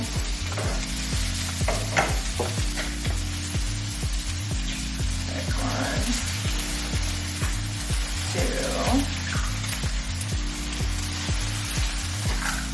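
Eggs sizzle steadily in a hot pan for a breakfast burrito, a constant bright crackle with a spatula stirring and scraping in a regular rhythm, close up and loud throughout, no talking.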